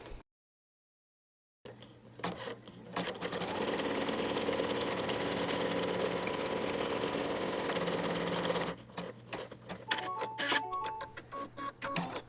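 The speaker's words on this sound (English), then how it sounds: "I'm sewing on heat transfer vinyl, which is pretty thin, and it's okay for this project." An embroidery sewing machine stitching through thin heat transfer vinyl, a steady fast mechanical whirr lasting several seconds after brief silence, then stopping into irregular clicks and clacks of the machine resetting.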